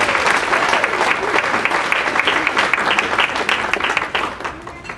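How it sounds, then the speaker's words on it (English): A luncheon audience applauds graduating students who finished a program, a loud, close wash of many clapping hands that holds steady and then tapers off toward the end. "So please give them a round of applause"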